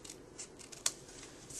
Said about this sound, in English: I'll just use my scissors and trim that piece off real quick.